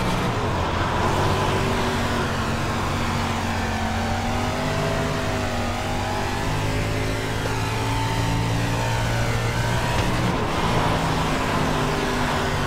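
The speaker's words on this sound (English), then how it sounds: "If you listen at the end of the straightaway, you'll hear this motor hit the rev limiter." A race car engine screams continuously as it accelerates down the straightaway, rising in pitch through the gears and bouncing off the rev limiter near the end, heard loud and close from onboard.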